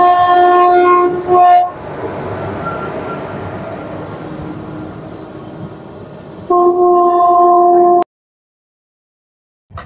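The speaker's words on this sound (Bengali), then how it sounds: "দার্জিলিং মেলটা কিন্তু হাই স্পিডে এবার স্পিড বাড়াচ্ছে" The Darjeeling Mail train runs at high speed, its loud rumbling wheels and carriage noise heard from on board, with strong horn blasts at the start and again near the end before the sound cuts off.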